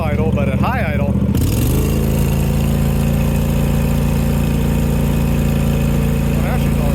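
A John Deere GT245 lawn tractor engine at high idle, a steady loud drone with a rough, uneven tone that holds throughout after a brief lower start.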